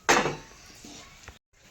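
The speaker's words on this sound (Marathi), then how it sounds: "चालू करते आणि त्यानंतर कढई ठेवते" A metal kadhai set down on a home kitchen stove, one clear clanking knock close by, followed by quieter scrapes and a faint second clink.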